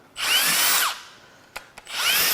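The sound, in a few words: power tool removing valve cover bolts on Jeep EcoDiesel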